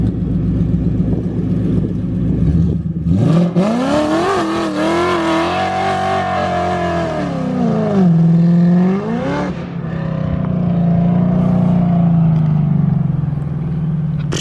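Naturally aspirated 2018-2019 Ford Mustang accelerating hard in a run of gears, loud engine revving that climbs, drops at a shift and climbs again, heard from inside the car.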